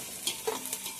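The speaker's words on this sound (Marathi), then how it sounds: "मग आता आपलं कांदो भाजत दिली वा." Onions fry in a pan, giving a faint, soft sizzle with a few light stirring clicks over a brief moment, no voices.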